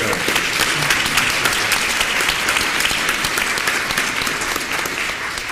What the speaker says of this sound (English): So let's give a round of applause for Johan.